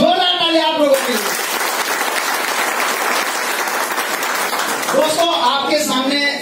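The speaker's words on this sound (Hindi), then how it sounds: "एक जोरदार ताली आप लोगों के।" An audience at an indoor talk breaks into loud, sustained applause for several seconds, framed by someone speaking just before and after.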